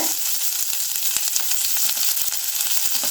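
Curry leaves crackle and sizzle steadily in hot oil in a pan while podi dosa is being made, with close, dense frying spatter and sharp pops throughout.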